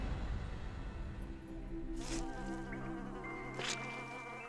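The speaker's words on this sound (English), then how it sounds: "Looks as though we've woken some mosquitoes." Mosquitoes buzzing in the Kameo video game, a steady insect drone with a continuous whine over a low rumble and two brief bright swells partway through.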